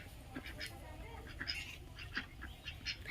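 Ducks quack in short, scattered bursts over faint background murmur, moderately distant and fairly quiet.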